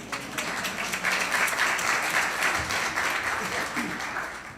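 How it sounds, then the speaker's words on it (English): A crowd at a judge's investiture ceremony in Miami applauds steadily for several seconds, a dense wash of clapping with some voices mixed in. "You can clap."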